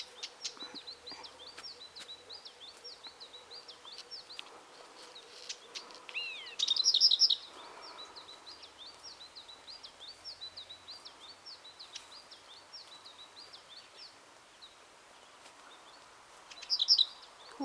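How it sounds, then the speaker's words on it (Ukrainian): Birds sing at 4 a.m. during the white nights of June: repeated high, bright chirping phrases that carry on through the stretch, with a louder burst of calls near the middle and again close to the end. "Ой, як тут пташки співають."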